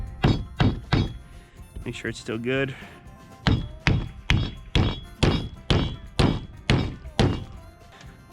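A hammer drives nails into the wooden framing of a chicken coop, a series of sharp, evenly spaced thunks close by, pausing briefly while someone speaks, then resuming in a steady rhythm.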